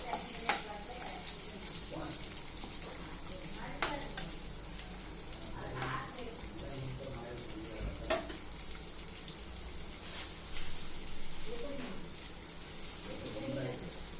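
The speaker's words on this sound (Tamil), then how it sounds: "போட்டு நல்லா தொலாவி பிடிக்கணும்." Carrot, beans and cabbage poriyal with onion and curry leaves is stirred in a frying pan, with a quiet sizzle running throughout and faint scraping of the spoon at intervals.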